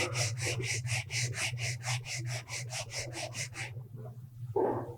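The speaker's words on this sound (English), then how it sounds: "just a little bit of sanding" Rapid rhythmic rasping of sandpaper rubbing exotic imported wood, quick back-and-forth strokes close up over a low hum, stopping abruptly before a brief soft noise.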